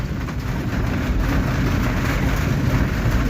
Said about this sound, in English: Yeah, man, a pure rain, man.